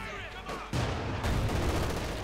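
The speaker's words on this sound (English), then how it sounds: "we got the anti-tank guns blasting away" Anti-tank guns fire in the video game Company of Heroes 2, a sudden loud burst of battle noise that rises partway through and keeps up as a dense roar of gunfire and blasts.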